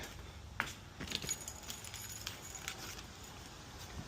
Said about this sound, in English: We'll grab the keys.